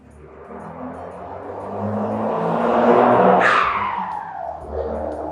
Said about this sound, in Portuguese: Reparem o barulho, não, que eu tô na minha loja, porque é uma avenida muito movimentada.